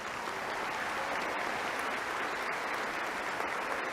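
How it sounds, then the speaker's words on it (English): Sustained audience applause at a spring 2024 graduation ceremony for the Naveen Jindal School of Management, a dense even wash of many hands clapping throughout, steady and moderately loud with no voices standing out. "please join me in giving them a warm round of applause"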